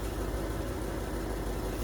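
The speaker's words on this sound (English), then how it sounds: "It's idling rough right now, but it's not warmed up yet." A Ford Thunderbird engine idling rough on a cold carburetor before warming up, a steady close low rumble with an uneven pulse and no voices.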